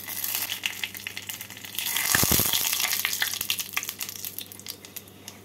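Cloves, large and small cardamom, black pepper and bay leaves sizzle in hot oil for chicken pulao, a soft crackle that swells into a brief loud hiss midway before settling back to a steady fry.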